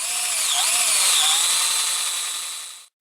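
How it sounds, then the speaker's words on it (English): Deer antler held in a vise being bored by a power drill fitted with a 1/4 inch bit, a close, loud, shrill grinding whine with slight pitch wobbles, lasting about three seconds before stopping. "I'm using a 1/4 inch drill bit now."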